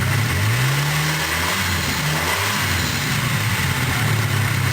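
Car engine revving up as the throttle opens, a steady loud mid-pitched roar that climbs in pitch then settles back toward idle, close and continuous with no talk.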